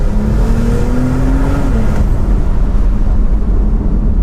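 A Brabus-tuned Porsche 911 Turbo S Cabriolet, remapped to 720 horsepower, drives with a steady, loud engine drone throughout, including a rising tone that climbs and then drops, and no talking.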